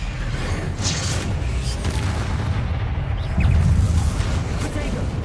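Bombarda and Confringo explosion spells in the video game Hogwarts Legacy, with a heavy low boom rumbling under noisy magical crackle and whooshes, one stronger blast swelling midway, and a voice speaking over the effects.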